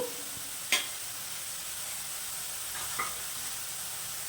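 Potatoes fry in a pan with a steady, soft hiss of sizzling oil as cumin powder is added, broken by a couple of brief scrapes or taps near the start and around three seconds.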